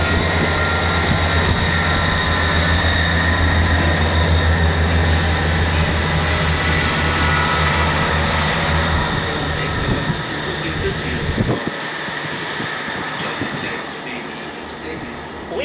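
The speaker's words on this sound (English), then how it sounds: "Now the train is just about to depart." A train departing Leven station rumbles and hums steadily with rail noise, loud and close, easing into quieter rolling sounds near the end as it moves off.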